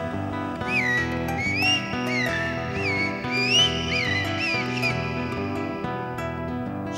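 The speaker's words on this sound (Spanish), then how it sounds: "Canta el zorzal." A zorzal (thrush) sings a run of short, gliding whistled phrases, repeated several times over continuous background music, clear and fairly prominent throughout.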